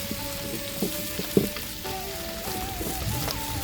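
Crab pieces fry and sizzle in spiced oil with turmeric and garam masala as the crab is stirred, a steady crackle broken by scraping strokes of the spoon against the pan.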